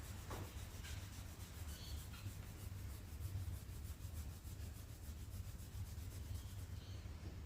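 A rag polishes a dull aluminium part from a 1968 Datsun 1000 barn find, a quiet, steady rubbing with a faint rhythmic back-and-forth texture and no speech.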